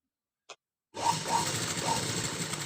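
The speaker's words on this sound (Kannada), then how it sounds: "1/2 ಇಂಚಿಗೆ ಸ್ಟಿಚ್ ಮಾಡ್ಕೊಳ್ಳಿ." A sewing machine stitches a princess-cut boat-neck blouse seam, starting after a short silence and a brief click, then running in a steady close mechanical whir.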